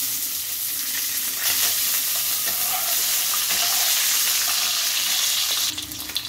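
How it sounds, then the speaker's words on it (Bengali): An egg fries in hot oil in a pan, producing a loud, continuous sizzle that holds steady and then drops a little in the final second. "ডিমটা ভেজে নিচ্ছি।"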